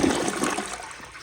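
An American Standard Townsend Vormax toilet from 2018 flushes up close, a loud continuous rush of water that holds steady through the whole moment with no voices.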